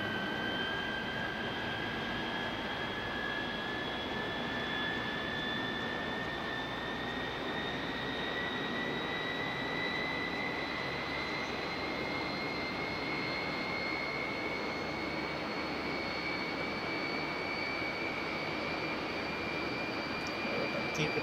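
A MiG jet engine holds a steady run-up near 6,500 RPM on a chocked aircraft, a loud continuous roar with a rising high whine that climbs slowly and never lets up.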